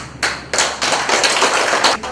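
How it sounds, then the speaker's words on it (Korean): A crowd claps at a Korean national patriotic speech contest preliminary in Boryeong, with a burst of applause swelling and holding steady for about two seconds. "여러분들에게 제가 박수를 드립니다"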